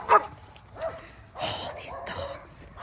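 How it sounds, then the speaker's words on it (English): Dogs bark in a few short, sharp bursts outdoors, close, mixed with someone talking and some whimpering in between. "but they bark like crazy, so then my dogs go crazy"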